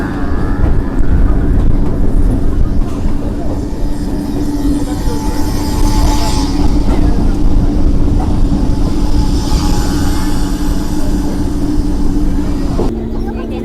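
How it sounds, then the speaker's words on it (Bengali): A train at Ranaghat station fills the scene with loud, steady rumbling and a sustained mechanical hum, amid a busy crowd murmur and platform bustle that continue until an abrupt cut near the end. "আর এই যে ট্রেনটা রয়েছে দেখো, সামনের বগিতে রয়েছে।"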